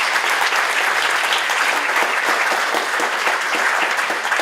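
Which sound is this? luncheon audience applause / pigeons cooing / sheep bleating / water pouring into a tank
luncheon audience applause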